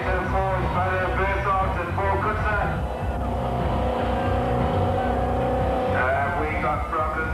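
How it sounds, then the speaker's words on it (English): A Range Rover engine labours in a deep mud hole during the 1988 Sun City 400 off-road race, a steady loud drone with shifting harmonic pitch as it strains, with voices under the noise. "Gert nearly drowning the Range Rover in the final mud hole before crossing the finish line"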